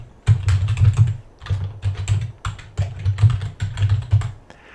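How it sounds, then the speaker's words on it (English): A computer keyboard clatters as a registration address is typed, bursts of quick close keystrokes broken by short pauses. "So let's type in our registration address."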